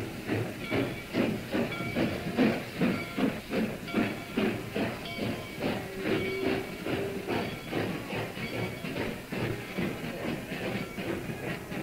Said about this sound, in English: the train is now pulling into the station